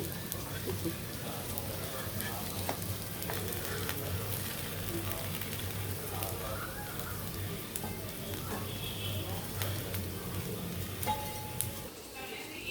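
Pandugappa fish pieces frying in oil in a pan, a low continuous sizzle with faint clinks, soft and even throughout with no speech over it.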